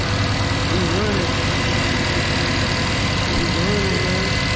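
Car engine idling steadily after a Holley Sniper fuel injection install, a continuous loud rumble with a broadband hiss, running throughout while someone talks over it.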